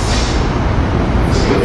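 Passenger rail cars rumble past at 30th Street Station during rush hour, a loud, dense, continuous roar of wheels and carriages close by.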